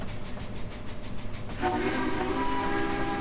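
A steam locomotive's whistle on the Saluda grade in a railroad video game sounds as a sustained, loud, steady tone that starts partway through over a constant rumble of the train rolling along the tracks.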